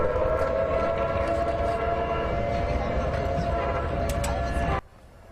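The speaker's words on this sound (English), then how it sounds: "These are the sirens that went off earlier." Tsunami warning sirens sound across Berkeley, a loud sustained wail with steady tonal bands over rumbling background noise, cutting off abruptly near the end.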